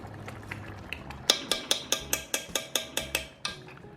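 A metal spoon taps repeatedly against the rim of a pot of Cincinnati-style chili, about a dozen sharp, evenly spaced clinks up close, with softer scraping and clatter before them.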